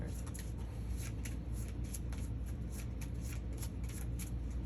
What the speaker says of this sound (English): we got to shuffle up and draw to see what's in this corridor